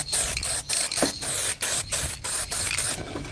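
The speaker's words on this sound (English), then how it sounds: "So let's get a bit of lacquer on just see what it looks like." Lacquer sprayed in repeated short bursts from an aerosol can onto a wood-burned wood slice, a close, loud hissing broken by brief pauses.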